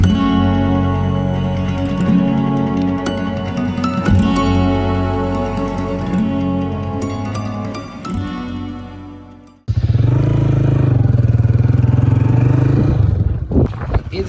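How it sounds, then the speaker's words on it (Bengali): A motorcycle rides along a road on a cold winter day, its engine droning loud and steady and close, then cutting briefly before roaring back with a rougher, revving tone. "সে বাইক ড্রাইভ করবে আর আমি ওনার পিছনে বসবো"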